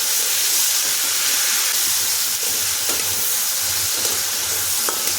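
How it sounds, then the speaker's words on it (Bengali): Onion paste frying in oil in a pan after browned garlic, a steady close sizzling hiss that runs unbroken throughout with faint scraping stirs, no voices. "এখন পেঁয়াজটা একটু ভেজে নিতে হবে।"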